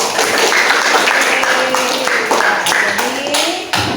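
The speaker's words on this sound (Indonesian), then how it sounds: "Iya, kasih aplaus dulu." Classroom applause fills the room, a dense patter of many hands clapping at once, loud and close and sustained for several seconds with a few voices mixed in.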